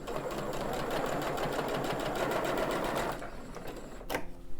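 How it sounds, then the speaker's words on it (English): A sewing machine stitches a quilt seam steadily with a fast, rhythmic chatter for about three seconds, then stops, leaving quieter handling noises and a brief clunk. "before I run it through the sewing machine"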